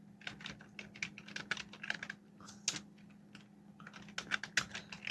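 Rapid, uneven keystrokes on a computer keyboard as a search query for a cleaning service is typed, close and clear with short pauses between bursts, no voices.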